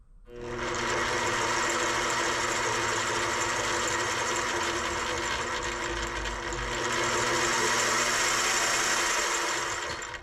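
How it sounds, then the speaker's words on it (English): A mini lathe fitted with metal gears runs in forward at high speed, giving a loud, steady mechanical whine and gear clatter with constant tonal hum, swelling slightly partway through, with no talking. "Let's put it in forward. Oh yeah, it's going to be noisy. It's going to be a noisy one."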